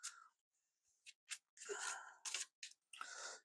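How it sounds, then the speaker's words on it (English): A deck of cards gets a quick shuffle and a cut on a tabletop during a board game, a few soft snaps followed by bursts of riffling and papery flutters, close and fairly quiet. "We're just going to do a quick shuffle and a cut."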